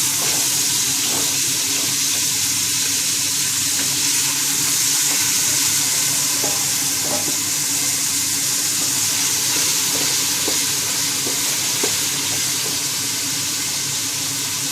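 Chopped onions fry in a pressure cooker with a continuous, even hiss and crackle close by, faint scattered pops, and no talking over it.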